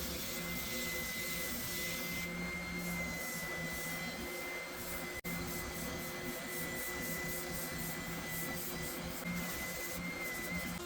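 Continuous loud whine and roar of an electric sander working a scrap wood knife, steady throughout with a faint tonal hum and a single sharp click midway, no talk.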